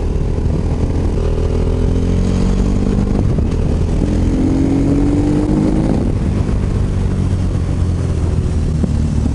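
A KTM 950 Supermoto engine revs loud and close, rising and falling through repeated acceleration sweeps with a rough, throaty drone throughout and no speech.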